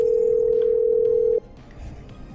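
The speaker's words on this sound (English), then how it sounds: "Okay, I'm dialing." A telephone in the video game Killer Frequency gives a steady, loud dial tone that holds for about a second and a half, then cuts off abruptly, leaving faint background noise.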